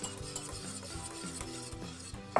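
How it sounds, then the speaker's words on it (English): Egg being whisked briskly into a sauce for sausage moussaka, a steady fast scraping and stirring rhythm in a pan, close and continuous with no talking. "you really want to be whisking your sauce very quickly so that the egg incorporates all the way"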